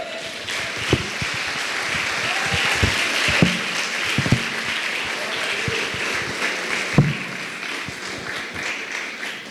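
A church congregation applauds during a sermon, producing a moderate, continuous wash of clapping with a few sharper individual claps standing out, and no speech over it.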